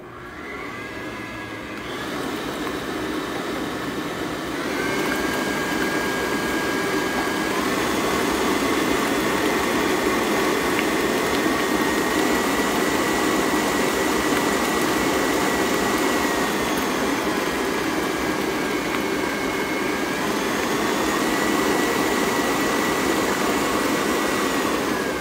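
A stand mixer beats white ganache filling, producing a loud, steady motor hum and whir that starts up early and runs continuously at close range for the whole stretch, with no voices.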